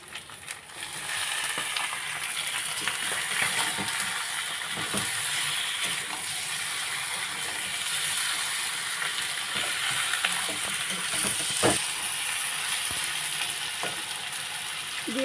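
Chicken meat, washed and drained, fries in a pan over a spice masala for chicken kosha, giving a steady, close sizzle with scattered crackles and occasional stirring clicks throughout.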